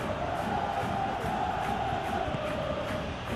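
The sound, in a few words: football crowd cheering in the video game PES 2021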